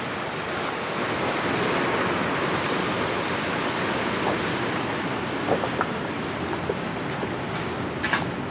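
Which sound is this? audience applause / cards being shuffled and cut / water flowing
water flowing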